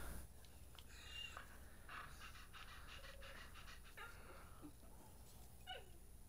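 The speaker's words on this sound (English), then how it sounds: "there's a dog down here I'm gonna pet." Rapid, steady panting from a dog in the Destiny 2 video game, close and quiet, continuing throughout with faint whimpers over soft game ambience.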